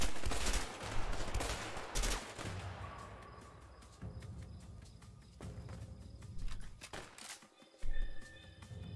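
Sniper shots crack in the video game A Way Out, several loud sharp reports spaced a second or two apart, with ringing echoes and scattered game noise between them.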